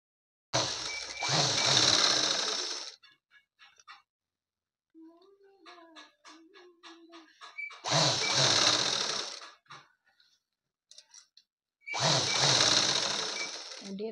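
Sewing machine running in three loud bursts while stitching around a skirt seam, with quiet handling noises and faint clicks between the runs.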